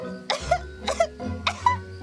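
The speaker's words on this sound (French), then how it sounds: "juste une petite toux" Three short, harsh coughs in a row, close and fairly loud, evenly spaced with low murmuring between them.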